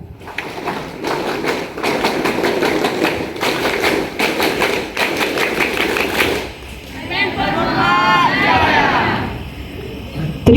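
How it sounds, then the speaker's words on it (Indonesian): Students at a junior high school Scout (Pramuka) 65th anniversary ceremony clap in a loud, rhythmic group pattern of sharp repeated bursts for about six seconds, then break into crowd shouting and cheering. "2 kali tepuk pramuka."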